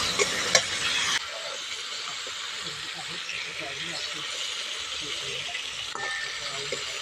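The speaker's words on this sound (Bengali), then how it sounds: "চিংড়ি মাছটা খুব বেশি ভাজবো না" Prawns sizzle in a pan with split green chillies, a steady broadband frying hiss with faint stirring clicks, fairly close and continuous, with a louder burst at the start and no talk over it.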